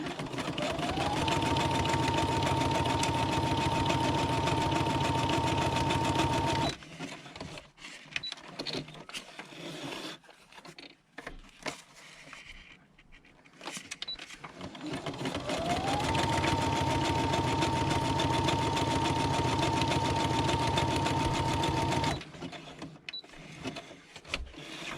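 A sewing machine stitching a handmade traveller's notebook, with two long, loud, steady whirring runs of several seconds each and a quieter pause of fabric handling between them.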